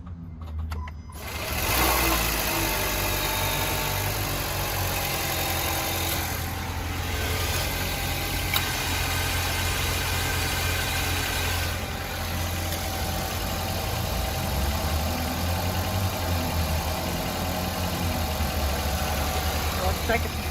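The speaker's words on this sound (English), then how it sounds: "and then we'll turn on the engine." A car engine idles steadily with a smooth mechanical hum while the AC system is recharged with refrigerant through a manifold gauge; a person talks at times over the constant engine sound.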